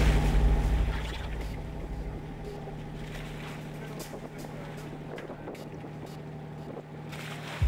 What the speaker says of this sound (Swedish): Vi är på Kustbevakningens båt